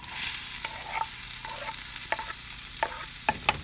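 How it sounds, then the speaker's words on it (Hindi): Chopped onions hit hot refined oil with crackling cumin seeds, giving a steady bright sizzle with scattered sharp pops and spoon-stirring clicks, close and moderately loud, no talking. "इसमें मैं डाल दूँगी प्याज"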